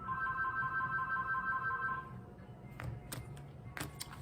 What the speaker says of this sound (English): The phone's ringing off the hook here right now.